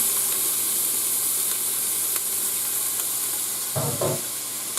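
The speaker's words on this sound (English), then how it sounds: "we're going to go ahead and saute this up a little bit" Half a diced onion sautés in oil in a pan with a loud, continuous sizzle throughout, and a brief clatter of stirring near the end.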